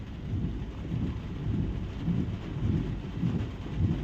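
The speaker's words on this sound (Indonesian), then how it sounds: "Dan kondisi sekarang nih masih hujan lor" Heavy rain and rolling thunder heard from inside a car during a downpour in Lampung, a continuous low rumble with dense rain hiss, steady and fairly loud, no talking.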